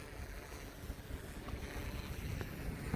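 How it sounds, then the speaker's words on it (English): Strong wind buffets the microphone in a steady, rumbling roar, with gusty swells and no voices. "it's really windy out."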